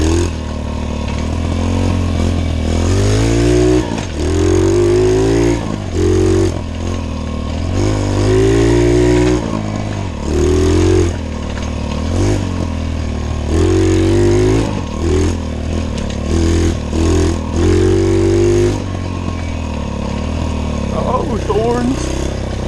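A small pit bike engine revs and bogs repeatedly on a ride, rising and falling in pitch close by, with a voice talking over it at times.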